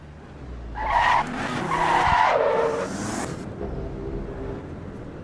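A fast race car in a racing video game skids hard, its tires squealing in a rising, wavering screech over the engine's drone for about three seconds before the engine hum carries on alone.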